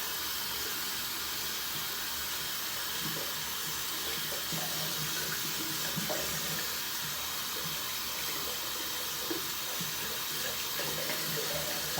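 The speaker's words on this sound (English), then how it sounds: "let's go ahead and rinse off my brush" A shaving brush is rinsed under a running tap, giving a steady, close hiss of flowing water splashing into a sink, with faint bursts as the brush moves through the stream.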